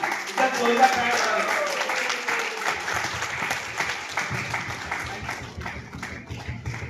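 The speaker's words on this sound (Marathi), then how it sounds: "एका सरांसाठी जोरदार टाळ्या झाला पाहिजे" An audience breaks into hearty clapping in a hall, loud at first and gradually thinning to scattered claps, with a voice briefly heard over the start.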